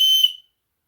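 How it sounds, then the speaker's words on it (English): A small whistle from an advent calendar survival kit gives one short, shrill, piercing blast, loud and close, that cuts off abruptly after under half a second. "And it has a whistle."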